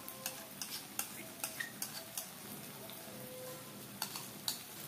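Ginger garlic paste, ground coriander and other spices being mixed in a pan, with a steady run of quiet scraping stirs and light clicks over a soft background hiss.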